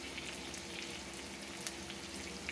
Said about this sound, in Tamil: அதனால் பச்சை மிளகாய் போட்டு வதக்கலாம்